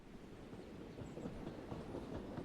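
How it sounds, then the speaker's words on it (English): A train in the indie video game Short Trip rolls along with a soft, low rumble and faint rhythmic clickety-clack of wheels, steady and fairly quiet throughout. "I like the train sounds."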